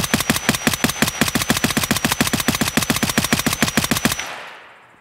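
Gunfire from a rifle in Escape From Tarkov: a long, rapid run of loud, evenly spaced shots, about seven per second, that stops abruptly and leaves a short fading echo.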